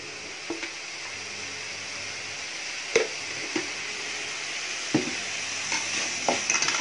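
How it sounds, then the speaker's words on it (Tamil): Channa masala base sautéing in a pan, with a steady sizzle under repeated scraping stirs of a spoon against the pan, moderately close and with no talk. "இது வதங்கினது போதும்."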